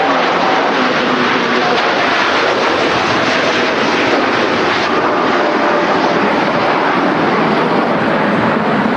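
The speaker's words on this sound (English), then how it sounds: "just the Dash 8 off to Punta Cana" Dash 8 turboprop departing Manchester Airport for Punta Cana, a steady loud broadband engine roar that holds throughout without a break.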